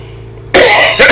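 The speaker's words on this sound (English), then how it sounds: "Got a cough." A single harsh, close cough bursts out after a moment of quiet, followed by a short second rasp.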